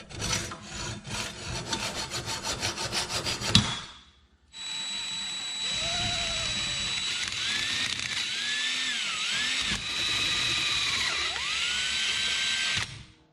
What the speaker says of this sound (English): I'm just going to go ahead and hacksaw it off.